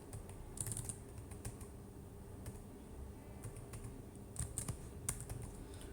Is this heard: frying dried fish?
no